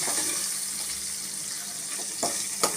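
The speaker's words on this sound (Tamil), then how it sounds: "வெங்காயம் நல்லா வதங்கணும்" Garlic, onion and curry leaves frying in a pan for Tamil tamarind curry (puli kuzhambu), a steady close hiss with brief stirring clatters, no talking.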